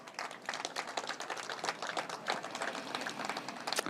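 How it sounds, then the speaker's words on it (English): Dense, sustained applause from an audience at a political speech, many hands clapping steadily and fairly close with no pauses throughout. "Why don't we give them a hand of applause"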